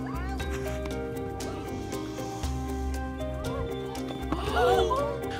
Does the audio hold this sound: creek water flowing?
no